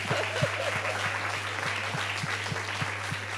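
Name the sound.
audience applause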